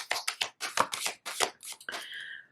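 A deck of tarot cards is shuffled by hand in a quick run of crisp riffling bursts, close and clear with no talking, ending in a brief sliding flutter.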